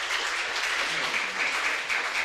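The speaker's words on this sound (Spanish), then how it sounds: "Un aplauso, por favor." An audience at a university academic event applauds steadily, a dense and fairly even patter of clapping that lasts the whole short stretch at moderate volume.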